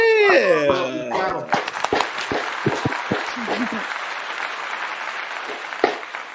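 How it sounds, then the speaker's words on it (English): Live show audience breaks into applause and clapping, a dense wash of claps following a brief burst of cheering voices, fading gradually toward the end. "Clap it up."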